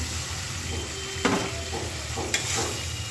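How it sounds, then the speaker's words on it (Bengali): Green beans and potato pieces frying in a pan of cooked-down masala, with a steady close sizzle and two sharp scrapes of a spoon stirring them. "এখন আমি সবজিগুলো দিয়ে দিই, এই সিম আর আলু"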